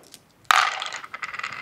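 Six dice rolled onto a table during a Kings of War tabletop game, one sudden clatter followed by scattered rattling and small clicks as they settle, close by with no talking.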